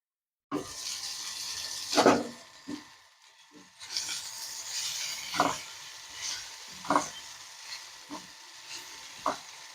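Cauliflower frying in oil in a pan, a soft hissing sizzle that rises and falls, broken by several sharper scraping stirs and clatters at irregular intervals, close by and with no talking.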